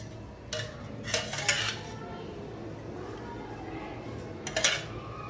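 A metal bandi frying pan is set down on a stove for frying eggs, giving a few clinking, scraping metallic knocks in two short clusters over a steady low background hum.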